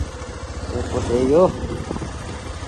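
A motorbike engine idles and rumbles close by at a market near an airport in Arghakhanchi, a steady low drone running throughout beneath a man's brief speech.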